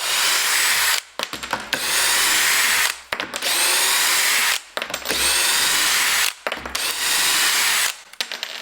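Loud, close drilling from a cordless drill on setting 2 runs in long sustained bursts broken by brief gaps, the motor straining steadily as screws are driven into wood.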